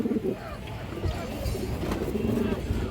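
Large pigeons, a mated breeding pair from a farm loft, coo in low, throaty repeated calls close by, with background noise and faint voices around them.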